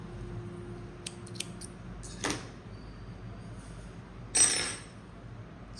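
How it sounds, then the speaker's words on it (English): Scissors snip through crochet yarn in a few quiet, separate clicks and crisp cuts against a soft room hush, with a slightly louder rustle near the end. "and cut the yarn."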